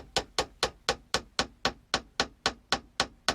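Eleven evenly spaced hammer taps drive an epoxied pin into a full-tang knife handle of 1095 steel, sharp and close in a steady rhythm with no talk.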